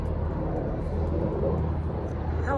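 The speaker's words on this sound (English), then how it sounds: "Helicopter flying." A helicopter in flight gives a steady, loud, droning rumble with a throbbing low tone that runs unbroken through the whole stretch, with no voices over it.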